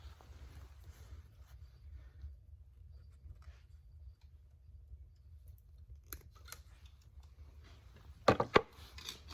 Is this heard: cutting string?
yes